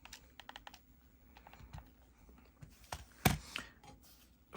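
The clicky face buttons of a Nintendo Switch 1 Pro Controller are pressed over and over, giving a run of quick, light, close taps with one sharper click near the end.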